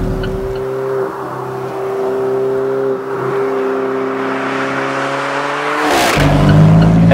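Alfa Romeo 4C sports car on a driving track, loud steady engine drone with a gear shift and tire noise, then revs rising sharply toward the end, heard close and alone.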